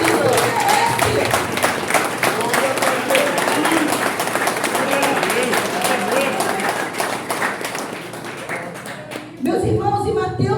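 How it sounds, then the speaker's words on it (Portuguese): A church congregation applauds together, a dense, steady wash of clapping that runs for most of the stretch, with voices mixed in underneath before it fades and speech takes over near the end. "Quem quer aplaudir Jesus? Ele merece o nosso aplauso."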